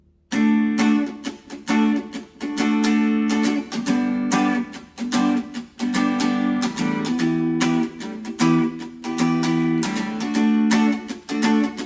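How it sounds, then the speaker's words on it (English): Acoustic guitar strumming repeats a busy rhythmic pattern, with light muted ghost strokes filling the gaps between fuller chords, close and without voices. "The ghost strums add a little bit more character and depth to it"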